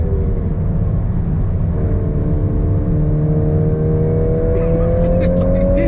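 A VW Golf R Mk8 accelerates mid-curve on the Goodwood Motor Circuit, its engine note climbing steadily in pitch through the gears, loud and close from inside the car, with voices briefly heard.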